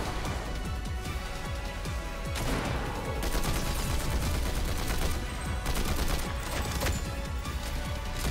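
Combat AR gunfire in Fortnite: steady rapid bursts of assault-rifle shots, loud and close, repeating in clusters over a busy match background.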